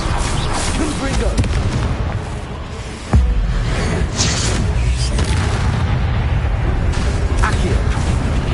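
Confringo spell blasts in Hogwarts Legacy, a heavy booming impact partway through amid continuous loud combat noise and rumble, with a voice talking over the fight.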